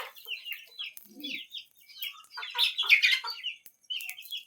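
Budgies squabble while eating seed, giving quick, scratchy chirps and chattering squawks in irregular bursts, close and moderately loud, with a brief low murmur partway through.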